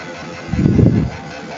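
A motorcycle engine at a motor show gives a single loud, rough backfiring burst lasting about half a second, standing out from a steady low background rumble.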